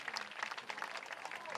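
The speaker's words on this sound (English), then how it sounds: "And he gets a round of applause." Crowd applause in the stands at a boys' lacrosse state final, a faint, steady patter of clapping heard from a distance under a broadcast commentator's talk.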